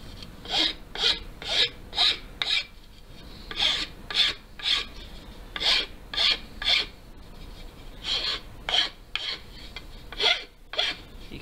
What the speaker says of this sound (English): So I'm just going to use a flat file.